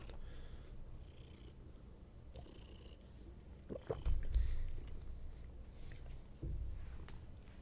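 A cat purrs steadily in someone's lap, a soft continuous low rumble with a few louder rustling bumps partway through, close by and with no talking.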